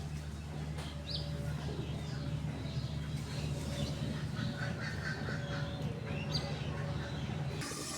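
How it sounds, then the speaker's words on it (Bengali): Several ducks quack softly at a distance amid outdoor village ambience, with scattered chirps and calls over a steady background hum. "দেখুন হাঁসগুলো চলে যাচ্ছে কত সুন্দর সিরিয়াল"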